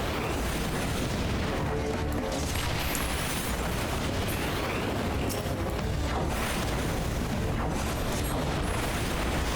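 Loud, continuous battle noise in Final Fantasy XIV: Stormblood with repeated booming blasts from static cannons and rumbling explosions over a dense, noisy background.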